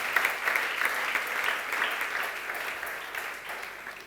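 A church congregation applauds and cheers for the Lord, steady clapping from a crowd that fades gradually over a few seconds, heard at moderate distance without talk.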